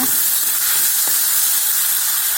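Tomatoes sautéing in a pan for a chicken dish hiss with a steady, loud sizzle, a faint scrape or stir breaking through once, no voices.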